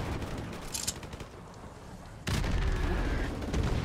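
Gunfire from the video game Call of Duty: Modern Warfare Remastered comes as a dense, noisy burst of rumbling shots and booms, with a louder, harsher stretch starting midway; no voices are heard.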